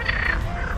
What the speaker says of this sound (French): On entend les grenouilles, je sais pas si vous entendez bien